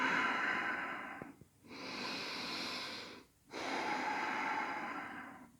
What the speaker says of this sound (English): And we're just going to breathe here.